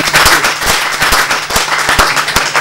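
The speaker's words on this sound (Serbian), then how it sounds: "aplauz za našu" An audience on a Serbian TV talk show applauds a model's entrance in an exclusive wedding dress: loud, dense clapping with sharp individual claps standing out, sustained throughout.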